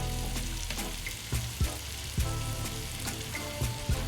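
Onions frying in oil on a Blackstone griddle, a steady close sizzle with occasional scraping taps from a spatula moving them around, no talk.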